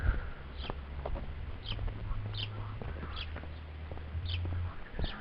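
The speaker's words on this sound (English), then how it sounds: "Lots of birds out at the moment." Several short bird calls repeat at intervals over a steady outdoor afternoon background with low hum, fairly close and moderately loud.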